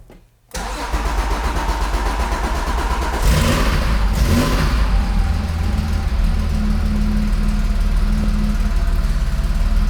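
A 1981 Porsche 911 SC cranks briefly after near silence, then catches into a loud, steady flat-six idle that swells with a blip of revs before settling, close and alone.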